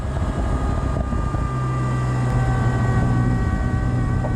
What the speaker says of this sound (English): Pop, pop, pop, burble, burble, burble